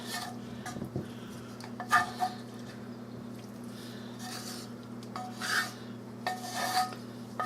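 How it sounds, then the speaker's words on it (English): Spoon scraping and rubbing against a pot as a hamburger and onion mixture is stirred into a cheese white sauce, with intermittent rasping strokes over a low steady hum. "now I got my hamburger mixture, and I'm gonna add it to my white sauce with the cheese"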